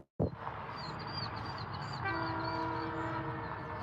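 A train rumbles past up close, steady and loud, with a long sustained horn blast sounding over the roar in the second half.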